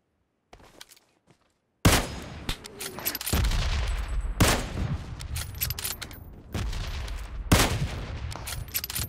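Rapid gunfire bursts in the mobile battle royale game PUBG Mobile, dense volleys of shots with sharp loud cracks after a brief quiet start, continuing steadily for several seconds.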